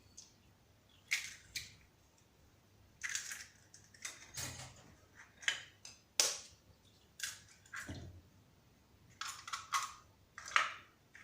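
An egg is cracked for French pancake batter, followed by soft, intermittent taps and wet squishing noises in a quiet kitchen.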